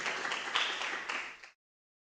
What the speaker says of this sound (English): Please give applause to the presenters, Nicholas.